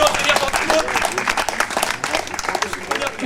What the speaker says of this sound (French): Et on peut l'applaudir encore une fois parce que c'est pas évident de venir dans tout le monde.